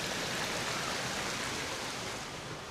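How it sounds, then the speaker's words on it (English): A waterfall rushes in a steady, dense hiss of falling water, close and unbroken, with no voices. "look at the lovely waterfall."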